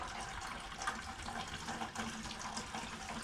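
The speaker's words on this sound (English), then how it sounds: "Looks like the entire expansion tank has drained itself out too." Green coolant drains from the expansion tank of a Suzuki Cara, a faint, steady trickle and splash of liquid close by, continuous throughout with slight surges and no speech.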